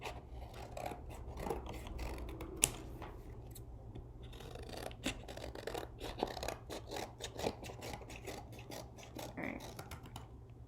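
Scissors snip through cardboard in a rapid, irregular series of crisp cuts and rasping crunches, close and fairly quiet, with no talking.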